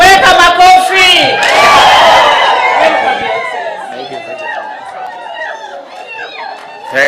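A large crowd at a Kenyan Deputy President's event launching payments for community health promoters cheers and whoops loudly over busy chatter, then the noise gradually thins into scattered voices.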